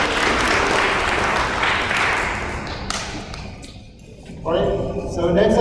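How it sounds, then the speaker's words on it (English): Audience applause for princess pageant contestants at a school event, a dense wash of clapping that thins briefly then swells again near the end, with some voices mixed in. "So if you can have everybody give them a round of applause."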